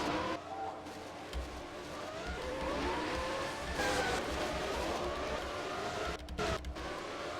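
Race cars lap the Abu Dhabi circuit, their engines droning steadily and loudly throughout, with swelling passes and brief revving bursts over a constant mechanical roar.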